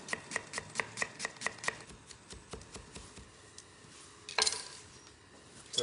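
A knife finely chops half a red onion on a board: a quick, even run of crisp taps up close, then looser, scattered cuts and a brief scraping clatter.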